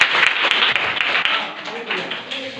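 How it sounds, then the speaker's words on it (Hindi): Children in a classroom clap together for a classmate, a short burst of scattered hand claps that mixes with nearby voices and chatter. "इनके लिए तालियां बजा दो।"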